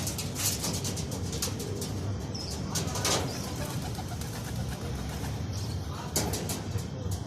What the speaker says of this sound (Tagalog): Ay, nagdadati niya na yung ibon natin.